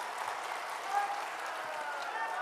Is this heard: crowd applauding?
yes